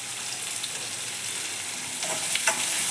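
Chopped onion cooking in a pan with turmeric and salt, giving a dense, continuous close sizzle with faint stirring scrapes toward the end.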